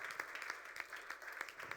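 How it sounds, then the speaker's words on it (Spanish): An audience at a ministerial training session in a church hall breaks into applause, a fairly quiet, uneven patter of many hands clapping for under two seconds. "Le da ese aplauso fuerte"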